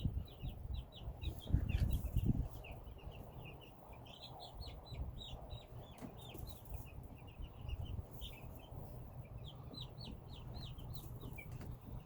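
Cornish Cross meat bird chicks chirping in repeated high, quick peeps throughout, fairly near and steady over a low rumbling background.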